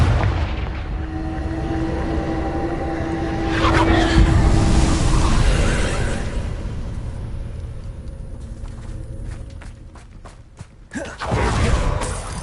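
The Confringo fire spell blasts during Hogwarts Legacy combat, a loud, dense roaring burst over a rumbling battle din that swells midway, then fades into a string of sharp clicks before a final surge.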